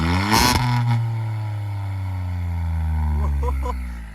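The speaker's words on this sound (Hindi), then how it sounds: "भाई अब देने जा रहे हैं इसको रेस। चेक करो आवाज़ चेक करो।" A Yamaha 155cc motorcycle engine revs up close, its pitch climbing and holding at a steady loud drone before easing off with a few sputtering blips near the end.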